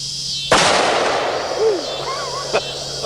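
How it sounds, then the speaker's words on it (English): A .45-70 Derringer pistol fires once at dusk, a sharp, loud report followed by a long echoing tail. A second, fainter crack comes about two seconds later. "Let's see if there's any muzzle flash on this 4570 Derringer."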